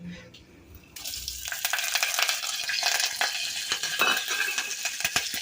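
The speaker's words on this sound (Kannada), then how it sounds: "ಎಣ್ಣೆ ಕಾಯ್ದಿದೆ ಸಾಸಿವೆ ಹಾಕೋತಾ ಇದ್ದೀನಿ" Mustard seeds hitting hot oil for tempering, a sudden burst of loud sizzling and crackling after a quiet start, staying dense and close with scattered pops and light stirring clinks.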